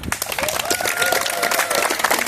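Audience applause at a Ukrainian youth championship award ceremony honouring a girls' team born in 2011, a steady dense wash of clapping with an announcer's voice running over it.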